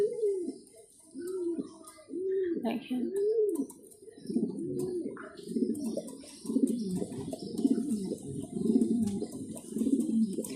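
Mundeyan pigeons cooing on a farm, a steady run of repeated low rolling coos that are close and moderately loud, with several birds overlapping toward the end and faint chirps above.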